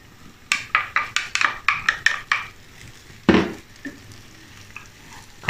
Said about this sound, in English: Now add the taro into the pan.